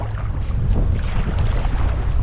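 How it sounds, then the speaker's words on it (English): Strong headwind gusting over a river during a solo canoe trip in the Yukon wilderness, a loud, steady roar of wind buffeting the microphone with no pause across the short stretch. "A wicked headwind just blew up"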